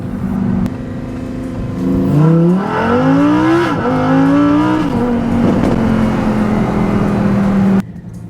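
A Lamborghini Huracan EVO's V10 engine revs hard, its loud rising and falling howl climbing in pitch before settling into a steady high drone, then cutting off abruptly near the end, with no talking.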